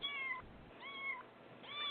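A cat meows three times in a row, each call clear and fairly close, with short quiet gaps between them against a faint background hiss.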